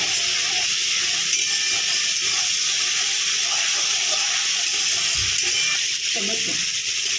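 Ginger and green chilli paste frying in hot oil in a home kitchen, giving a steady, close sizzle and hiss with occasional stirring scrapes, no talking.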